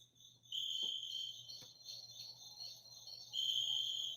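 Cricket chirping as a sound effect, a steady, faint, high trill with a brief click partway through and no talk.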